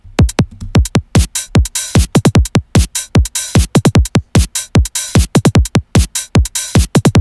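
Punchy electronic drum pattern with deep kicks, a snappy snare and quick hi-hat ticks in a busy, danceable groove.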